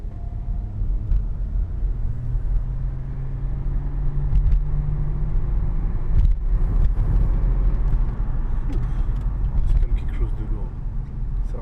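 A 2012 Audi A4 Avant 3.0 TDI V6 diesel with S-tronic gearbox driving on an open road, a low steady engine rumble that swells as it pulls harder, with someone talking in the cabin over it.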